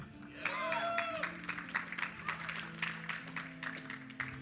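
Crowd at a StarCraft esports match cheering and clapping for a Zerg player, steady broadband roar with scattered claps, while a caster's voice and tonal music sit underneath.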